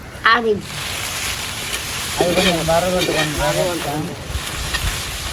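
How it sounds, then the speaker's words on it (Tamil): Dried red chillies roast in a pan in Jaffna, giving a steady, fairly loud sizzle that runs beneath people talking throughout. "செத்தல் போட்டு வறுக்க போகலாம்"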